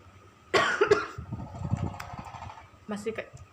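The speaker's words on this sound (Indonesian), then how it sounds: "Aku masih batuk kadang-kadang" A sharp, close cough from someone with COVID-19, quickly followed by a second, then a quieter cough a moment later, with soft voice sounds in between.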